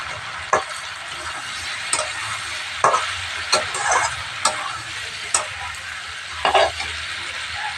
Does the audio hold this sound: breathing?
no